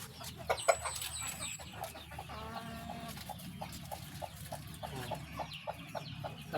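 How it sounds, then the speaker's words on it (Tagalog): Chickens clucking steadily inside a farm coop, with repeated short calls close by over a busy, continuous background of other birds; no talking. "Nandito sa loob mga kababayan yung iban mga chicken natin ito."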